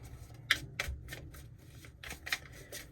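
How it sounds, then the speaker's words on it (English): Tarot cards are shuffled close up with a run of quick papery riffles and taps in an irregular rhythm, fairly soft against a quiet room. "I'm going to do one more shuffle here"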